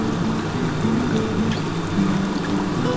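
Pomfret fish and potato curry simmering in a pan gives a steady, close bubbling burble that stays even throughout, with no voices.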